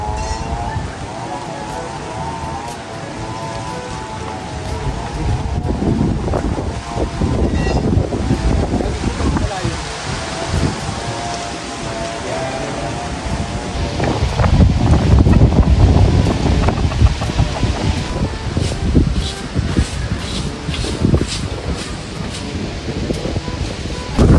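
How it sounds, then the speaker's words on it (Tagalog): Strong wind at a fish pond buffets the microphone in heavy, gusting roars that swell louder midway, with faint voices and lapping water underneath. "Lumakas po ngayon ng hangin dito po sa fish pond."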